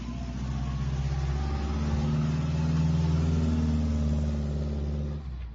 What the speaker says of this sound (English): which left Saab with really only one existing engine option, the V4 Ford Taunus engine.